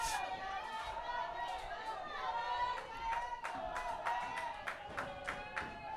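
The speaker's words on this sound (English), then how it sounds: "Got a loud crowd again this afternoon." A loud crowd of fans at a high school baseball game between the Palmview Lobos and Rouse Raiders murmurs and calls out steadily, with scattered claps and shouts rising over a continuous din of voices.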